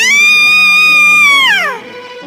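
A single high, sustained scream from a girl in fear holds a steady shrill pitch for about a second and a half, then slides sharply downward and cuts off into quiet.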